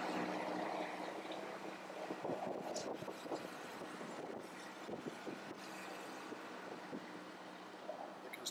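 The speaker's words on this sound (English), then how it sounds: "You can hear the planes right above me." Airplanes flying overhead near an airport, heard from a bridge as a broad, steady jet roar mixed with gusty wind buffeting the microphone, fairly distant and continuous with no speech.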